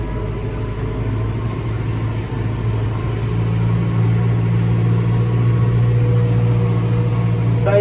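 A tractor pulling a John Deere seed drill rolls backward in a field, giving a steady, loud low engine drone with a constant hum that holds at an even level the whole time, no voices over it.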